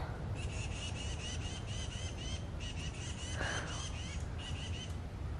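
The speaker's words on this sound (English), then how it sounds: "Goodness, birds." Birds squawking outdoors, a rapid series of harsh repeated calls in several bursts, fairly close over a steady background rumble, with one brief higher squeal partway through.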